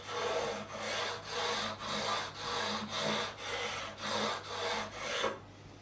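A diamond file rasps back and forth across the frets of a Tanglewood TW47 guitar, with about eight even strokes in a steady rhythm, close and clear.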